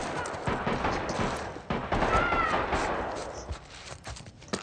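Gunfire and combat noise from the video game The Last of Us Part I, a dense, loud mix of shots and crashing effects with a brief whistling tone partway through.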